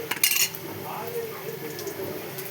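A spoon clinks and scrapes in a cooking pan as ginger and turmeric are stirred over low heat, several sharp metallic taps at the start giving way to softer stirring.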